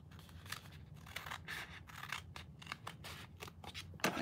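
Scissors snip steadily through a paper junk mail envelope, cutting toward a corner. A rapid run of crisp, close cuts repeats at a quick, fairly even rhythm, fairly quiet overall.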